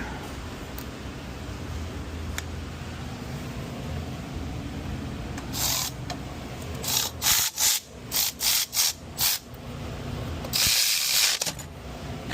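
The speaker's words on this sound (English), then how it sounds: "So now we can go with the cordless ratchet." Cordless ratchet working on the starter screws of a 2003 Honda Civic, heard as several short close bursts of whirring with brief pauses between them, over a low background hum.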